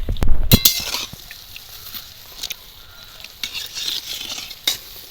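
Nimki snacks fry in oil over a medium flame, a soft, faint sizzle under clinks and scrapes of a utensil against the pan, with a louder clatter at the start.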